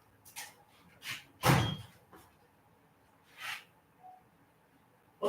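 A drawer in a tool chest in a home garage slides open with a run of close wooden-sounding bumps and scrapes, one louder thump standing out among several softer clunks.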